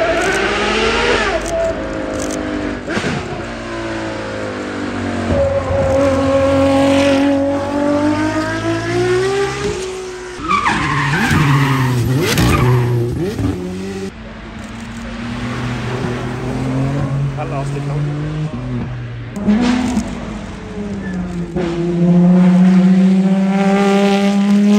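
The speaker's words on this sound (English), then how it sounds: "Here we go, 296 coming through." A supercar wearing number 296 screams up the Goodwood Festival of Speed hill climb, its engine rising through repeated gear changes, loud and close as it passes, with crowd noise and other cars audible.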